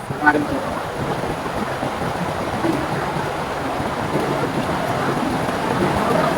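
Strong rushing water at a waterfall in Nilgiri, heard as a steady, loud, dense roar with no pauses, close and continuous throughout.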